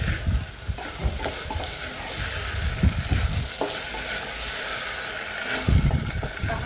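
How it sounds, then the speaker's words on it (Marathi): Cluster beans (gavar) sauté in a hot pan with a continuous close sizzle and frying crackle, broken by repeated scraping stirs of a spatula against the pan. "एक दोन मिनिट आपण ही गवारी चांगली अशी परतून घ्यायची आहे"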